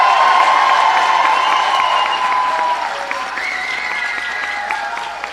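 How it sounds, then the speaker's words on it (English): Steady audience applause at a governor's bill signing for legislation expanding access to driver's licenses, a dense, loud wash of clapping from a crowd that holds evenly throughout and tapers only slightly toward the end. "let's give a huge round of applause for the members of the legislature who are with us today"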